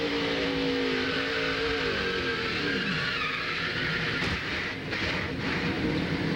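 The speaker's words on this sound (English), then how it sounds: "The grinding and the crunching of short track action." Onboard a stock car at the 2000 Food City 250, racing through turn 3 of a short track: a loud, continuous engine roar with grinding, scraping noise that shifts pitch as the car works through the corner.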